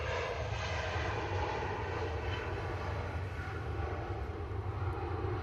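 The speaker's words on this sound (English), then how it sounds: "I know British Airways is taking off" A British Airways airliner takes off with a steady, loud engine roar that holds even throughout, dense low rumble and broad hiss with no let-up and no talking.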